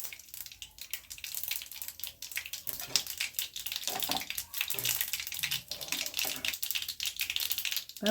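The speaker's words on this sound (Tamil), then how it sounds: "கடுகு பொரியட்டும்." Mustard seeds spluttering in about two tablespoons of hot oil in a pan, giving a steady, irregular stream of small crackles and pops, close and fairly quiet, with no talk.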